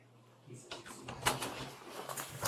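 A hotel room door pops open with a sudden clunk and rattle, followed by scuffling and movement close by, with no clear speech.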